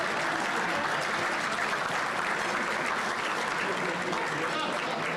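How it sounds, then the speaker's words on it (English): Loud, dense applause from a crowd at a St. Patrick's Day luncheon, continuous and close, with voices mixed into the clapping. "Give yourselves a big round of applause for coming out."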